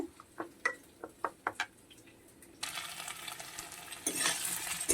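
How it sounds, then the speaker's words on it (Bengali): Several sharp utensil clicks and taps come first, then a loud hiss of taro frying in a pan takes over and rises, close by, with no speech. "দেখুন কচিটা অনেকটা ভাজা হয়ে এসছে"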